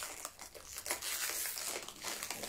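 A crinkly snack package from a Zen Pop Japanese treat box is torn open: a steady stretch of loud, close plastic crinkling and rustling without any talk.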